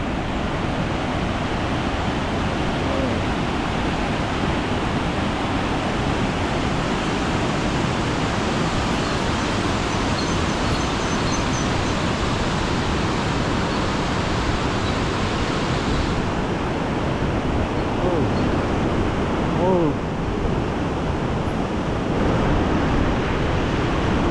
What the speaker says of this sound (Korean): 그냥 스카이로 소왕성 폭포처럼 아 여기서 그냥 설산물이 막 내려옵니다